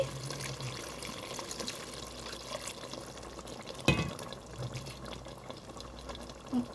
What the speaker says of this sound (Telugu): చింతపండు రసం యాడ్ చేస్తున్నానండి.